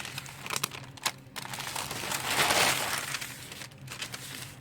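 A fused plastic bag sheet peels off parchment paper with loud crinkling and a long, swelling tearing rustle in the middle, close by and continuous.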